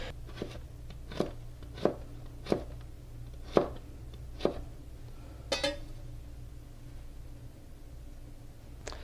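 A knife chopping carrots on a cutting board, about eight sharp, separate cuts spaced irregularly at close range over a low steady background hum.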